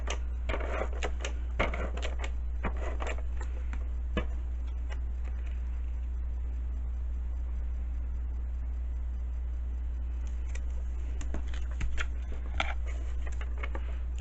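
Tape glue runner being pressed and dragged across papercraft for a heart-shaped candy box, giving a series of close clicks and short scraping rolls over a steady low hum.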